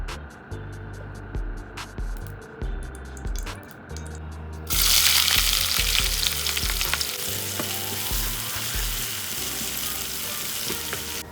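Cooking oil sizzling loudly in a hot pan, a steady hiss that surges in strength about halfway through as more cooks, with low clatters and stirring sounds beneath and no talk.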